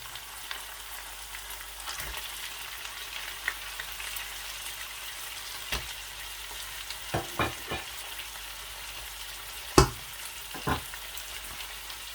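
Mutton pieces frying with garlic in a kadahi, giving a quiet, steady sizzle broken by occasional sharp clicks and scrapes from stirring.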